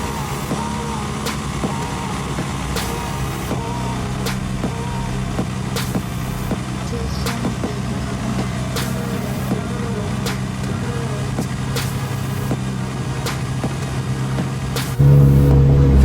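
A Mitsubishi Evo 9 engine hums steadily while driving, a constant low drone with faint rhythmic ticks throughout and a sudden louder rumble near the end.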